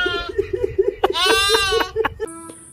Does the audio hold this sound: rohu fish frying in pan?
no